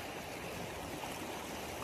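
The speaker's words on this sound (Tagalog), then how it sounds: "Ayan, guys, dito kami sa may sapa ngayon." Creek water flowing, a soft steady broadband rush and trickle, faint and continuous with no talk.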